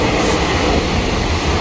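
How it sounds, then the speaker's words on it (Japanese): A freight train passes close by on a main Japanese rail line at night, a loud continuous rumble and rattle of wagons rolling steadily past. "貨物列車が通過してきますね。"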